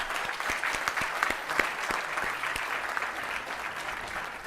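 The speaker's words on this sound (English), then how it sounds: "A big clap to Rama Devi Garu." A large audience applauds at an international conference in Vijayawada, steady dense clapping with a few sharper individual claps standing out, and no talking over it.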